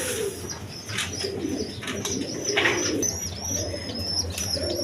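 Pigeons coo softly amid light chirps and faint wing flutters at a bird seller's stall holding paired colored pigeons, including a white Girizial Resha pair with chicks, over steady low background noise and no speech.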